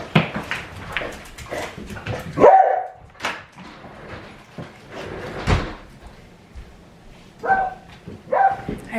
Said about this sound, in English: I have a dog, sorry.